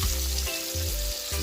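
Ackee and saltfish fry in a pan, giving a brief, steady sizzle heard up close with no speech.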